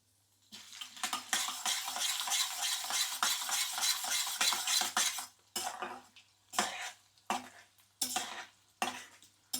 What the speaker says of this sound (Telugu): ఇవన్నీ కొంచెం ఫ్రై అవ్వాలండి.